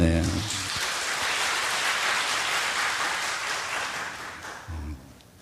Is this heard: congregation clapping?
yes